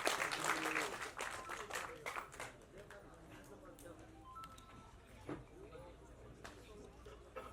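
An audience applauds to welcome comedy actor Senthil onstage at a Tamil film's song and trailer launch event. The clapping is loudest at the start, then thins and continues under a man's speech.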